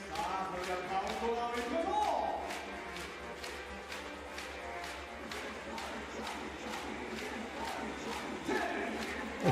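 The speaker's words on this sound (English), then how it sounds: "Exceptional crowd we've got here. Hardly any empty seats in the house." A packed basketball arena crowd at a B.League game between Osaka Evessa and Koshigaya Alphas, a broad, steady roar of murmuring and cheering with rhythmic claps or thumps running through it.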